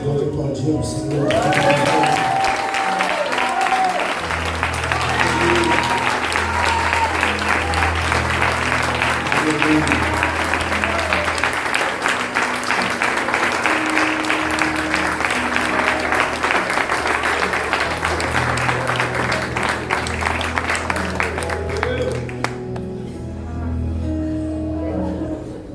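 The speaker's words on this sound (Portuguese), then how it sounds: "Você pode aplaudir o Senhor." Church congregation breaking into sustained, loud applause that fills the room for over twenty seconds, steady and dense throughout, with music and voices woven beneath before it tapers off at the end.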